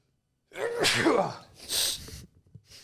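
A loud, close sneeze bursts out after a moment of silence, followed by a second sharp sneeze-like exhale and faint shuffling.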